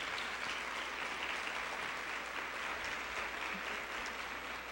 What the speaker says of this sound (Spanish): y les pido un aplauso, por favor, para ellas.